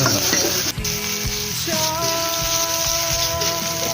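Red curry paste stir-fried with long beans, pork and squid gives a loud, dense sizzle, with repeated scraping from stirring over a sustained tonal hum in the background.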